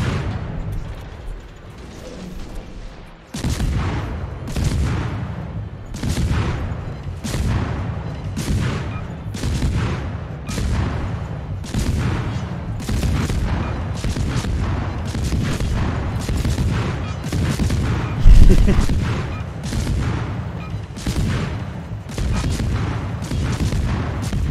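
Rapid naval gunfire from World of Warships: loud, booming salvos repeat at a steady, fast rhythm about every second for the whole stretch, close and dominant, with no talk over them.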